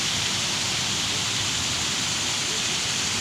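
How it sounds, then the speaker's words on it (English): A park water fountain splashes in a steady, even hiss of falling water, close and constant throughout with no distinct breaks or voices. "The water fountain."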